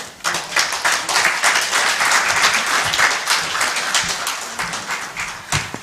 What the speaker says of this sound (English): So we clap for her until she sits